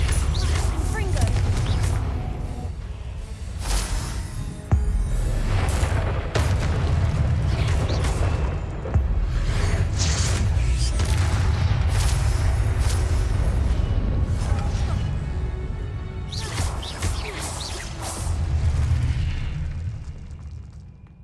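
Confringo fire spells in the Hogwarts Legacy video game burst in repeated booming explosions, loud and crowded, with a voice heard over the blasts.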